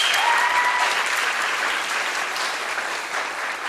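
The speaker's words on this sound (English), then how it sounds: "So please give yourselves a round of applause." Steady, dense applause from a graduation audience at Luther, filling the space evenly from start to finish with a faint murmur beneath the clapping.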